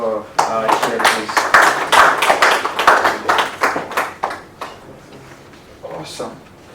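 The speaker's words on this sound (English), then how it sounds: "All right, another round of applause for our chair" Audience applause for the event chair at an engineering awards summit, a dense burst of clapping from a crowd that swells for a few seconds, then thins out to scattered claps before dying away.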